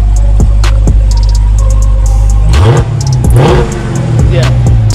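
A yellow 2018 Dodge Charger SRT Hellcat rumbles loudly and close at idle, then its engine is revved in several sharp blips with a throaty exhaust roar.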